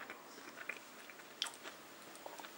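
A mouthful of Nestlé Crunch snack is chewed close up, with faint crisp crunches and soft, wet bites in an irregular rhythm and no talking.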